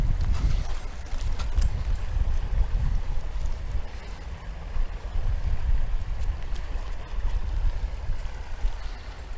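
Steady wind buffets a boat on open water while trout are landed, a continuous low rumbling roar with gusts and water wash, loud and close throughout, no talking.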